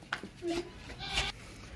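An Asil goat that kidded a month ago bleats in a couple of short, fairly quiet bursts, the calls separated by brief pauses.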